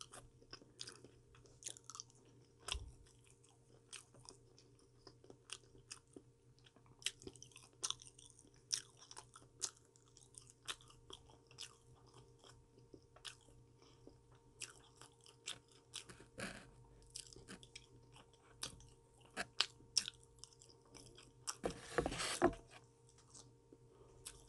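Potato is chewed steadily up close with irregular moist munching and occasional crisp crunches, growing louder toward the end, against a low electrical hum.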